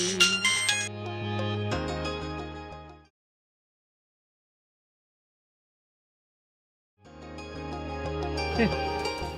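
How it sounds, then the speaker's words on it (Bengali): A mobile phone ringtone from a missed call plays as a bright, melodic electronic tune in two stretches separated by several seconds of silence, loud and clear with no talk over it. "এই যে আবার মিস কল দিছে।"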